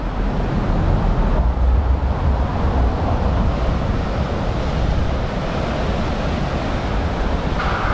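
Ocean surf and wind at Hanauma Bay, a sandy beach in Hawaii: a loud, continuous roar of breaking waves mixed with gusty wind buffeting the microphone, steady throughout with no voices.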